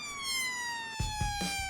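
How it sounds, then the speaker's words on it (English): A police car siren is switched on together with its flashing lights, a loud steady electronic wail rising and falling, joined near the end by a few low thumps. "Scott presses this button to turn the flashing lights and siren on."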